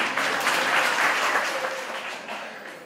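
Clapping from the audience at a Jain religious discourse swells quickly, then gradually fades over a few seconds, a moderately loud burst of applause filling the hall.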